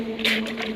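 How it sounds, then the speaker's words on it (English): A splash into cold water on a dairy farm, a short broad burst of spray lasting under a second, close and fairly loud over a steady low hum. "That was a hell of a splash"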